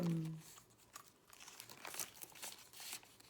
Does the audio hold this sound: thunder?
no